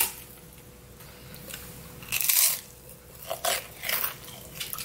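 Crunchy Korean yugwa, a glutinous rice confection coated in grain syrup, is bitten, giving one sharp crisp crunch followed by a few softer chewing crackles, close and clear.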